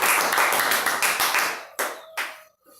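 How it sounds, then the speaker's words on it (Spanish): Church congregation claps hands in dense, fast rhythmic bursts for about a second and a half, then trails off into a few scattered final claps and near silence. "Dele fuerte palmas a Cristo."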